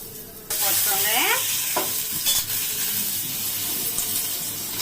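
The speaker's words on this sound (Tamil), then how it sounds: "வெறும் கருவேப்பிலை மட்டும் தாளிச்சு போட்டேன். பெருங்காயம், கருவேப்பிலை, கடுகு." Curry leaves, asafoetida and mustard seeds hit hot oil for tempering, and a loud sizzle bursts up and keeps crackling steadily with some stirring. It sounds close and continuous, with no talking.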